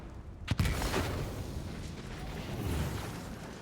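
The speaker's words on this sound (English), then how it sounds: "Ooh, explosions." An explosion in the video game Rogue Trader opens with a sharp, punchy blast, then rolls into a sustained low rumble that fades only slightly.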